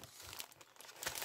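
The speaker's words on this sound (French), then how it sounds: "Alors, on va déballer les diamants." Diamond painting kit packaging being unwrapped, a close, steady crinkling and crumpling of plastic wrap with a few sharper tearing rustles, continuous throughout.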